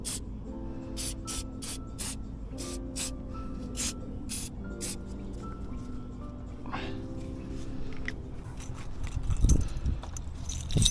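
Aerosol corrosion preventative sprayed onto the terminals of a new battery in a 2007 Ford Ranger 3.0L, a series of short, sharp hissing bursts in a steady rhythm, close and fairly loud, with light clinks near the end.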